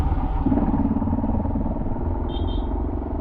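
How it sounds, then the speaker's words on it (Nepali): A motorcycle with a modified exhaust silencer and a washer fitted rumbles steadily and close-up, a dense, continuous engine roar with no pauses for the whole stretch. "साइलेन्सर फेरेर त्यो कत्रो आवाज पड्काइरहेको"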